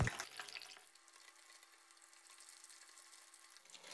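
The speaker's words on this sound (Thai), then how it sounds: "เราจะทอดไข่ของเราให้สุกเหลืองกรอบกันเลยนะครับ" Eggs deep-frying in hot oil for Thai son-in-law eggs, a steady close sizzle and bubbling that runs evenly throughout without talk.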